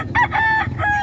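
A rooster crows at a poultry market in Padre Garcia, Batangas, with one loud, close, broken crow in quick bursts over low background murmur.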